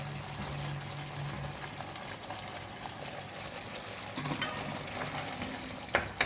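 Masala sautéing in oil for sambal udang, a steady close sizzle with occasional scraping stirs, no talk.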